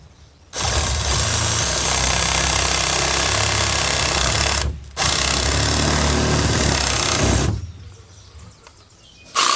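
A power tool cuts a small piece of PVC pipe in two loud, steady buzzing bursts separated by a short pause, ending with a quieter tail.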